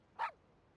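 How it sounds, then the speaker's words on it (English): A guard dog in a video game gives a single short, sharp bark that stands out clearly against a quiet background. "So that's a guard dog."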